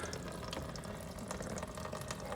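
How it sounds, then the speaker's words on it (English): Water runs steadily from the sink tap of a converted VW T4 campervan, a soft, continuous splashing hiss heard up close and alone. "Here we have a sink with the water,"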